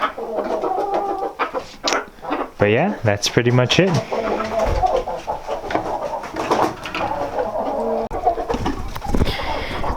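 Young roosters along with Henny and red jungle fowl cluck and call near a farm at sunset, while someone talks over the birds throughout.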